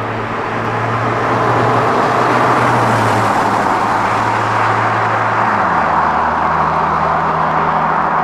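Steady, smooth engine drone of a Porsche 987 Cayman S Mk2 with sport exhaust cruising at speed in seventh gear, exhaust valves closed, with road and wind noise, the low tone shifting slightly partway through.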